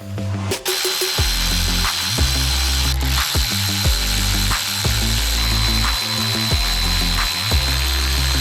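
Rapid ratcheting clicks from a ratchet wrench loosening bolts on a Honda XR400 top end, in close repeated bursts with short pauses between them and no talking.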